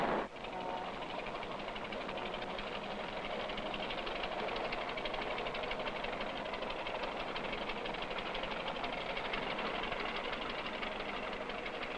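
The engines of the ocean liner Willem Ruys run steadily in a dense, continuous mechanical rumble and hum with a faint rhythmic knocking, unchanging and fairly loud throughout.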